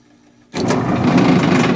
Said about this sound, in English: We're going to work on my Norg 20-pound capacity dryer.